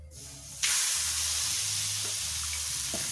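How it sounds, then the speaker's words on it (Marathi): A sudden loud hiss as thalipeeth dough of bhajani flour and fenugreek leaves hits a hot griddle, then a steady sizzle that holds for a few seconds, close by. "तवा गरम झाला आता आता आपण हे थालीपीठ असं टाकून घ्यायचं"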